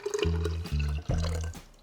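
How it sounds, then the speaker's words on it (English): Fresh pureed strawberries and fresh-squeezed lemon juice pour into simple syrup in a few short, close, gurgling splashes lasting under two seconds. "now we're adding our fresh pureed strawberries and fresh squeezed lemon juice"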